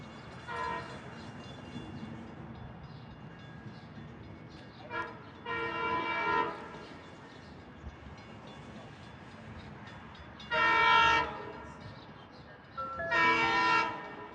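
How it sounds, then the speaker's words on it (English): A passenger train horn blasts several times, short bursts then longer loud blares, over the low rumble of a train arriving at a station platform on the Montauk Branch. "You get to hear that gnarled, mangled, and mutilated horn, which is very Silverliner 4-esque."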